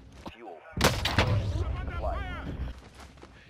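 A rocket launcher shot into the ground in Warzone, one heavy close blast followed by a thudding impact and rumbling tail, with players talking over it.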